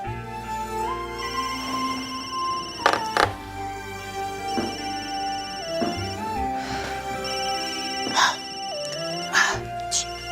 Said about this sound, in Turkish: Telefonun çalıyor.